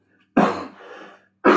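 A man gives two harsh, close coughs with a throaty rasp, separated by about a second of silence.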